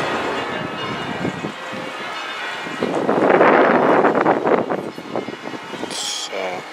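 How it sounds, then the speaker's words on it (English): Bells ring at the old San Juan Capistrano mission, heard at a distance under gusty wind noise and the murmur of nearby visitors. "You can hear the bells."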